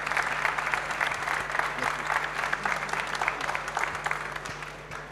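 Sustained, loud applause from a large audience fills the hall at an installers' trophy awards ceremony, continuing evenly before tapering slightly at the end.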